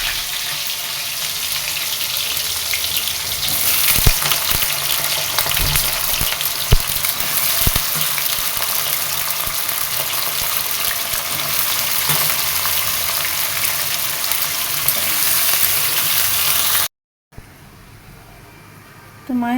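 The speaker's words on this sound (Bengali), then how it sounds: "এটা আলুগুলো এবার ভাজবো, জিরে তেজপাতা একটু একটু ভাজা ভাজা হয়ে যাবে" Potatoes fry in oil with cumin and bay leaf, giving a loud continuous sizzle with occasional clinks, close and steady for most of the stretch before cutting out near the end.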